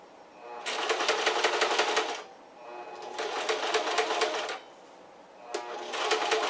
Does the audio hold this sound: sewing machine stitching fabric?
yes